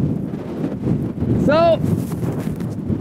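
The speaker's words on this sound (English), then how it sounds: "Iceland can get really windy" Strong Icelandic wind buffets the microphone with a low, continuous roar, while a brief voice speaks partway through.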